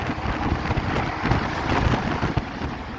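Wind rushes through the open gap between two buildings near a bridge in Comilla, making a constant rumbling gusty roar with buffeting thumps against the microphone.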